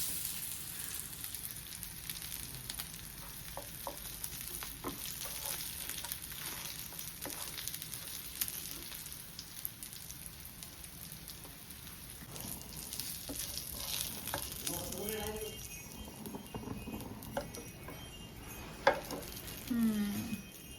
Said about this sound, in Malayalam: ബാക്കി ഇവിടെ ഉണ്ട്, ഇനി അതും ഫ്രൈ ചെയ്യണം.